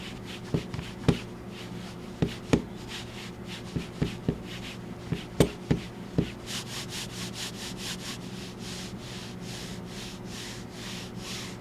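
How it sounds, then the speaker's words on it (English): A mouse slides across the textured surface of a VAXEE PE-K mousepad, giving soft rubbing swipes and scattered light taps in the first half, then fainter, quicker repeated swipes, close and quiet with no voice. "here's a quick sound test to give you a better idea of the texture of its surface"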